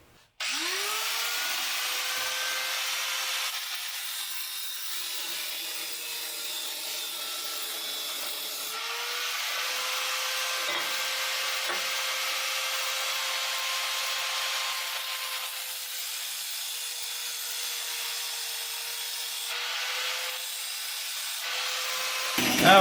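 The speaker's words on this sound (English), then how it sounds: "we're just going to take the cutoff wheel and just get through that outer layer on both sides" An abrasive cutoff wheel grinds through the hardened outer layer of a steel sway bar, a continuous high whine lasting over twenty seconds with small shifts in pitch as the cut goes on.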